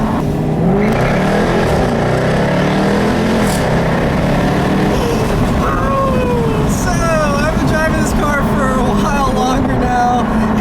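A 2015 Jaguar F-Type R Coupe engine hums and revs steadily through the whole stretch, rising in pitch as it accelerates, with a person talking over the cabin noise.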